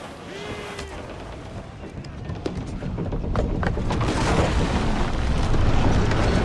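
Ship cannons firing in Assassin's Creed IV Black Flag naval combat, heard as a series of deep booms and rumbling blasts that build into a sustained roar, with crew voices shouting over the barrage.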